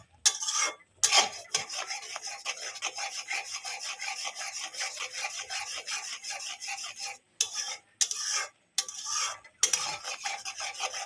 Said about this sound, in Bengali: একভাবে এভাবে নাড়াতে হবে নাড়াতে আটি হয়ে জমে যাবে মিষ্টিটা